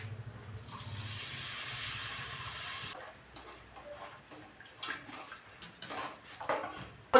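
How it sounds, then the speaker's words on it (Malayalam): Tamarind water poured into a hot pan of curry spices (chilli, coriander, turmeric and fenugreek powders) gives a loud, steady hiss for about three seconds, then fades into softer sizzling and scattered clinks and bubbling. "പുളിവെള്ളം ഒഴിക്കുകയാണ്."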